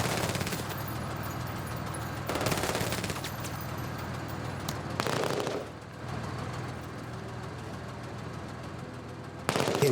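Automatic weapon fire in a video game rattles in several sustained bursts separated by short lulls, loud and close over a constant background rumble.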